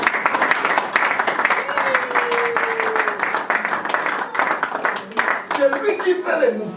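A church congregation applauding at an evening celebration service, dense sustained clapping from many hands with voices and singing mixed in throughout.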